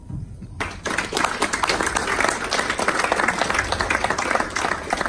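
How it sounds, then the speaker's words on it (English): Sustained applause from a live audience at a gathering about Mars, dense clapping starting abruptly after a brief quiet moment and continuing steadily and loud throughout. "Let us give ourselves a clap."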